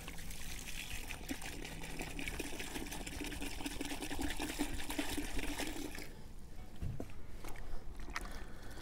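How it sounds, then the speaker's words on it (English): Water is poured onto soil in a bucket and stirred into a slurry, making a close, continuous splashing and sloshing trickle that slows toward the end, with no talk over it. "Now I'm going to add water to this soil, make a slurry."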